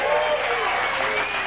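A studio audience at the last broadcast of a morning TV show breaks into loud, steady applause with some cheering, a dense wash of clapping that holds for the whole moment.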